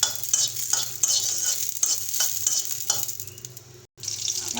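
Chillies frying in a pan for a taro-stolon curry give a steady, close sizzle broken by repeated stirring scrapes, with a brief drop to silence near the end before the frying resumes.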